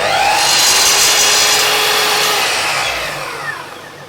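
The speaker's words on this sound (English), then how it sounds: "I'm going to just sneak it a touch more by bringing the saw blade down and pushing it up against the kerf" A power saw blade spins and cuts into a wood kerf, a loud close whining roar that holds steady and then slowly winds down toward the end, with no speech.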